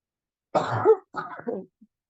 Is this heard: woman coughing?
yes